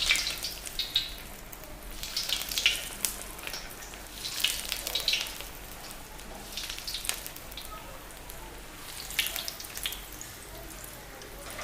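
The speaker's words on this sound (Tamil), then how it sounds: "பொறுமையாக ஃப்ரை பண்ணணும்." Corn cheese balls deep frying one by one in oil over a medium flame, a steady crackling sizzle with brighter bursts of bubbling throughout, fairly close and alone.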